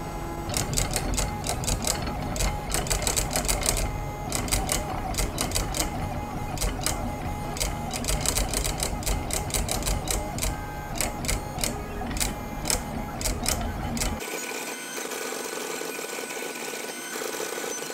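A calligraphy writing machine drives a brush pen across paper with a steady, rapid mechanical ticking and motor whir, close and continuous, before stopping near the end and leaving a quieter hum.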